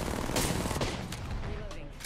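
Rapid gunfire in Apex Legends, a dense burst of shots running steadily through the whole stretch amid battle noise, with faint voice underneath.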